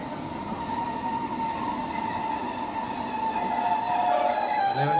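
A train rolls steadily along the rails with a continuous rumble and high metallic squeal from the wheels, close by and without speech.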